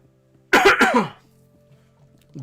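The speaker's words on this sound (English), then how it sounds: "Sorry for all the coughing," One harsh cough, close and loud, in a quiet room, followed by a faint short throaty sound.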